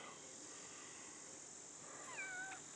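Young cats being weaned outdoors meow faintly, a thin drawn-out mew rising late over a steady high insect-like hiss.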